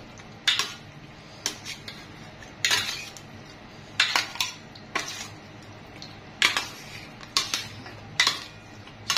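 A metal spoon stirs chicken kaldereta in a pot, scraping and clanking against the sides in sharp irregular strokes with short pauses between them, close and alone over quiet background.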